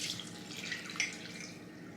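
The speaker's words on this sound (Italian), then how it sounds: "Ho messo l'acqua," Water trickling and splashing into a mixing bowl for a dough, a steady close pour with faint drips and no talk.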